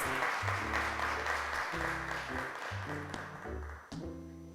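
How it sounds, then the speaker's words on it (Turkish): Applause from an audience, steady clapping that holds for a few seconds and then begins to thin out, with music playing underneath. "alkışlarla mikrofona çağırıyoruz"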